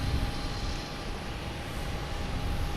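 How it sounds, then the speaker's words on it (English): An Airbus A321neo airliner passes near Boston Logan Airport with a steady, loud broadband jet roar and low rumble, holding constant throughout. "It's an A321 Neo."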